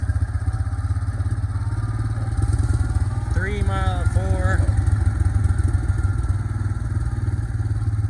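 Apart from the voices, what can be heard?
Yamaha Kodiak 450 ATV engine braking downhill in 4-low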